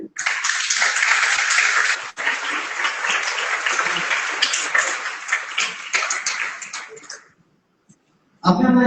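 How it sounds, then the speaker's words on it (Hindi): A crowd applauds loudly and steadily for about seven seconds at an International Yoga Day conference in India before the clapping fades to silence, then a voice begins at the end. "जोरदार तालियां हो।"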